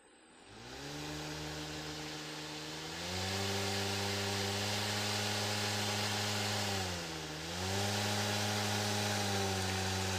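A brushless motor driven by an ESC spins up with a steady whine that rises in pitch in steps, dips briefly and climbs again, moderately faint and alone.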